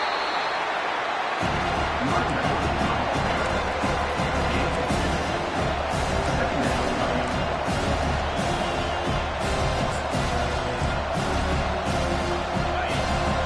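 A stadium crowd at a Texas at Notre Dame college football game roars in a steady, dense wall of cheering that holds loud throughout.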